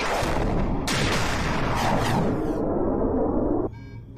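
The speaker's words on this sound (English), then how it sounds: "Callie, target a piece of a ship you can barely do without and hit it with a torpedo." A sci-fi television torpedo strike on a spaceship: a loud, dense roaring blast that swells and rumbles for several seconds, brightens midway with a second burst, then cuts off abruptly into a quieter fading tail.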